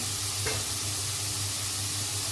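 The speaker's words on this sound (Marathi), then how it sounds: "हा पण फ्राय होतो याच्यामध्ये कांद्याबरोबर, मिरचीबरोबर, टमाट्याबरोबर" Cut potato frying in a pan with onion, chili and tomato in spice masala, a dense continuous sizzle with a low steady hum and one brief stir, close up with no talk.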